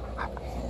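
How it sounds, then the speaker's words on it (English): A happy, big, chubby puppy lets out a short, close whimper, a couple of high nasal yips in under a second, with no talking over it. "you're a happy puppy"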